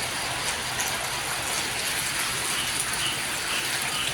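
Steady rain patters down in a dense, even hiss over an elephant village, moderately loud and unbroken, with a faint low rumble underneath.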